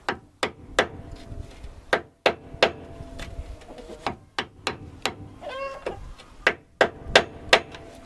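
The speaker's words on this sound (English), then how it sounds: "give it a twack or two with the hammer" Sharp metallic hammer strikes on a screwdriver driven into a Ford Ranger rear shock mount, about a dozen close, irregularly spaced blows with a brief squeaky scrape midway.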